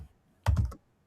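Python code typed on a computer keyboard: one short, quick burst of a few close keystrokes with silence on either side.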